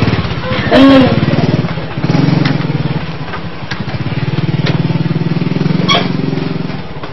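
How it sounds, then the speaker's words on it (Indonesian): A motorcycle engine idles with a steady, throbbing putter, rising into a couple of brief revs, with a faint voice near the start. "Soalnya kalau udah jalan, ntar motor Bang Ucup bisa kenceng kayak jet"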